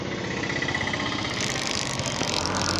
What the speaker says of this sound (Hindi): अगर आपका गाड़ी का भी चेन में से ऐसा ही आवाज़ आता है